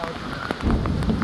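Rain falls steadily in a forest in Jamaica, a dense close patter of drops on leaves and the ground that swells slightly toward the end, with no talking.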